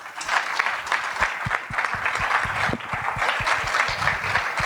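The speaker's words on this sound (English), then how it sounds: "All right, let's give him a round of applause." A business breakfast crowd claps in a continuous, dense round of applause. A few nearer individual claps punch through the steady wash of hands, and no one speaks.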